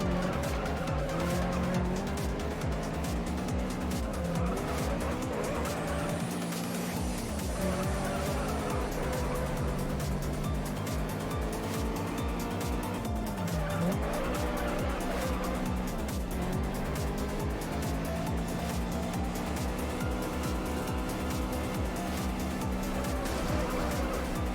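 A Honda CRX races in the video game Juiced, its engine droning loudly and continuously while tires squeal and skid through repeated corners.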